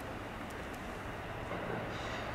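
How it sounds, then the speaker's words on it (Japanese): Train pulling in at platform 4 of Atsubetsu Station, a steady broad rumble with faint high squeal at a moderate distance, continuous throughout without voices. "4番線に列車が到着いたします。"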